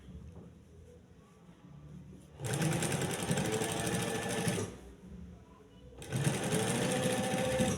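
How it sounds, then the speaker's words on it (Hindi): A sewing machine stitches a flat collar in two loud, close bursts of rapid, steady needle chatter, separated by a short quiet pause. "यहाँ से हम इसको 1 पाँव के फासले पे सिलाई लगाना शुरू करेंगे"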